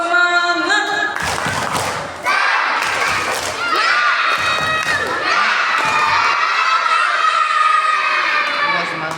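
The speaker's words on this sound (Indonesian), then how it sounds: "Tepuk semangat." A crowd of children at a pre-Ramadan gathering claps and shouts together in energetic bursts, loud and close, with cheering and voices throughout.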